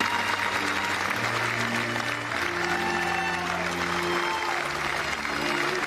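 Dense, steady applause from a crowd in a town square as a coffin is carried onto a churchyard at a funeral, with sustained tones and faint voices mixed into the clapping throughout.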